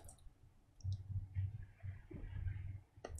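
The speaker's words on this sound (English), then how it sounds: "I'm going to click on Utilities up the top and click on Terminal" A few sharp mouse clicks on a Mac computer, spaced apart over a low background hum, quiet and close.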